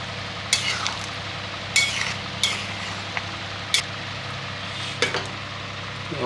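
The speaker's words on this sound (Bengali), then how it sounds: "আস্তে আস্তে নাড়াতে হবে।" Paneer and small-potato curry stirred gently in a pan, a low steady simmer broken by a handful of spaced spoon clinks and scrapes against the metal.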